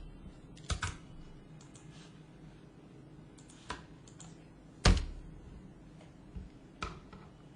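Keys click sparsely on a computer keyboard, with one sharper, louder press standing out among the soft, close taps as Enter is hit to start a RHEL 8 install.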